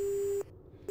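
A video game phone gives a short busy signal after hanging up: a steady electronic tone, a brief gap and then the tone returning, clear and alone over faint background hum.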